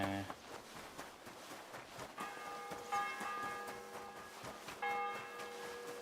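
A church bell tolls in the medieval game Kingdom Come: Deliverance II, its ringing strikes repeating at a slow, even pace, moderately distant and faint under a quiet ambient background.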